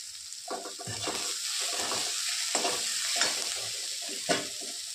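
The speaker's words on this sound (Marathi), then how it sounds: "छान परतून घ्यायचं. जास्त कांदा लाल नाही करायचा आपल्याला." Onions sauté in a pan for a potato bhaji, a constant sizzle broken by several scraping stirs of a spoon against the pan.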